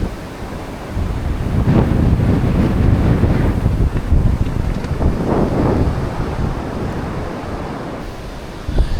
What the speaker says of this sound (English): We're experiencing a windstorm right now in Wasilla.